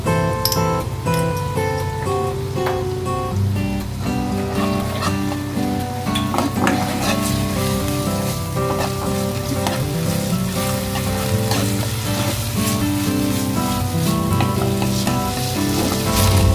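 Red spice paste fries in a pan for a rice-vermicelli dish, a loud continuous sizzle with scraping stir strokes and light clinks of utensil on metal, alone without talk.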